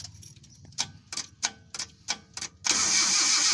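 A Mitsubishi L300 gasoline engine, suffering hard starting from an ignition coil resistor block fault, cranks in a series of short, evenly spaced bursts, then settles into a steady loud hiss after a few seconds, close and alone.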